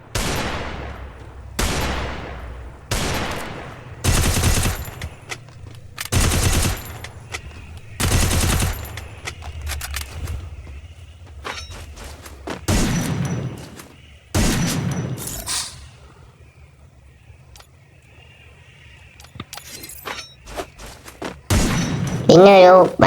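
Rapid automatic gunfire from a mobile shooter game, in repeated loud bursts of shots separated by short pauses, close and dominant, with a further burst near the end.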